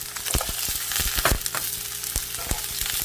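Vegetables fry over medium-low heat for soy-sauce tteokbokki, a steady close sizzle broken by sharp stirring scrapes and clicks of a utensil against the pan.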